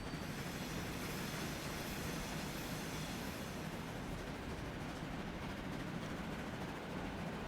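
An ore train rumbles steadily in the Transport Fever 2 video game, a dense, even wash of rolling noise that holds throughout at moderate volume with no talk.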